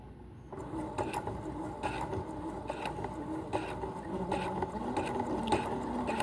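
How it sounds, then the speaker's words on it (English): A sewing machine stitches over pins while a dress shoulder is altered, running steadily close up with a rapid mechanical whirring and ticking that continues throughout. "I'm sewing over pins, and I shouldn't be sewing over pins"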